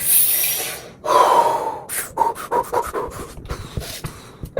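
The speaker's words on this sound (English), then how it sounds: "First, you just take a couple deep breaths." A few deep, heavy breaths drawn in and let out close up, with sharp gasping inhales and breathy exhales in an uneven rhythm, and no talking.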